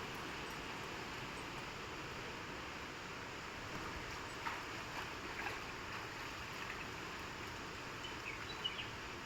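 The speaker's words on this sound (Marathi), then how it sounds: "आणि अशी नदी चालली मंदिराच्या बाजूने" A river flows past an old temple in the Konkan countryside, a steady, broadband rush of water that holds even and continuous throughout, with no talk.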